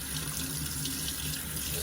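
A tap runs steadily into a sink while a Rolex is being cleaned, a close, even splashing rush of water with no pauses.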